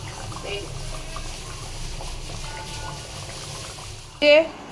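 A pot of hilsa fish curry simmers with a soft, continuous bubbling close by, ending in a brief louder clatter.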